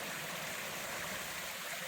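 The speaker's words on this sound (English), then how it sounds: "this is Slide Creek" Slide Creek runs through a shaded, damp forest spot, giving a steady, unbroken wash of flowing water with no other sounds.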